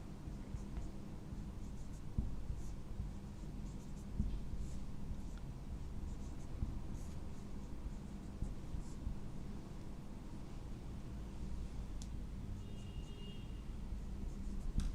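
Pen or chalk scratching steadily while writing chemistry ring structures, a quiet continuous scribbling texture with small taps, no talk.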